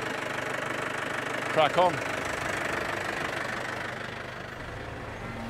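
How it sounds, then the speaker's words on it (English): A tractor engine runs steadily in the background through the whole stretch, a low continuous idle-like drone while someone speaks briefly near the microphone. "Making the tractor work,"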